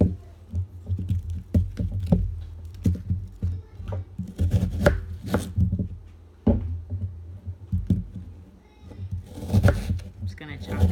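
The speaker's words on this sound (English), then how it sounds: "Okay, chop up this onion." A knife chopping an onion on a board in a home kitchen, with irregular close knocks and bursts of cutting that come under intermittent talking.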